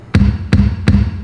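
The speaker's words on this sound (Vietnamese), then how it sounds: "đó là tiếng kích trống" Three punchy electronic kick drum hits from a Casio CT-X5000 keyboard phrase pad, evenly spaced, each a deep thump with a short sharp attack and brief low decay, alone with no talking.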